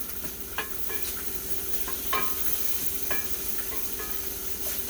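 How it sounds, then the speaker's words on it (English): Jalapenos sizzle steadily in a pan while a utensil stirs them, with a few sharp scrapes and clinks standing out over the constant close hiss of frying. "Give that a little stir around."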